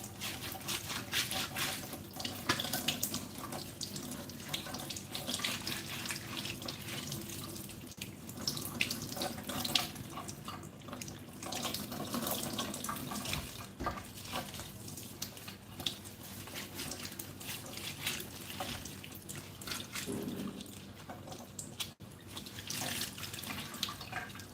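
Tap water runs steadily into a sink while a fresh pineapple is washed under it, a continuous hiss and splash with small shifts in flow, close and fairly quiet, with no talking.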